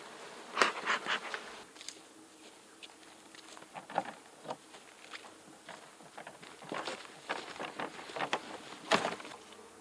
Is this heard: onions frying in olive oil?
no